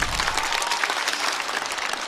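A stand-up comedy show audience claps loudly and continuously, a dense wash of applause with no pauses.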